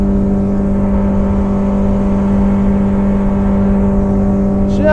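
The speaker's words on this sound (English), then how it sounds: "Let's go ahead and kick up the speed. Full throttle ahead." A Yamaha 115 outboard on a 1987 Arima SeaChaser 17 boat drones steadily at full throttle, a loud, continuous high-revving whine with wind and water noise beneath it.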